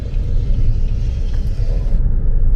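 A BYD Atto 3 electric car accelerating to overtake on a toll road, giving a steady loud low rumble of road and tyre noise from inside the cabin, continuous throughout with no voices.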